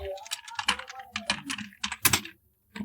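Keys clatter on a computer keyboard in quick irregular bursts of close, crisp taps, with short pauses between runs and a quiet stretch near the end.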